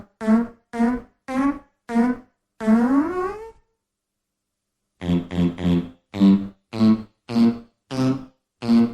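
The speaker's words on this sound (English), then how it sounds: "Family Guy fart song sound." A comedic Family Guy fart song effect: a rapid series of short, pitched, tonal blasts, a sliding longer one, a second of silence, then another evenly spaced run of loud honk-like puffs, with no talk.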